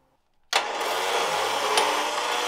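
After a brief silence, an electric winch fitted to a 4x4 switches on abruptly and runs with a steady, loud, close whirring hum that continues without pause to the end.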